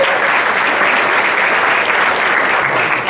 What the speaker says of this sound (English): You can give yourself a big round of applause there